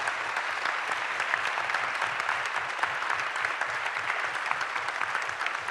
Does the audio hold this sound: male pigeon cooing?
no